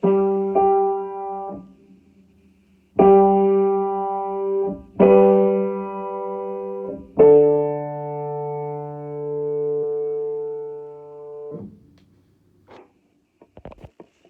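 Two sustained instrumental lines, one low and one high, play slow held notes together in a quiet room, each chord changing after a long pause.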